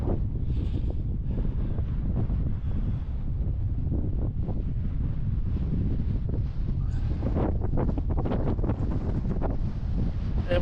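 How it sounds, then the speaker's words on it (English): Strong cold wind gusts roar across the microphone on a solo hike on Alaska's Kenai Peninsula, a loud continuous buffeting rush with surging gusts and no talking. "Because that wind is cold."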